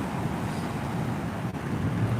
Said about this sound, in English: It is windy per usual.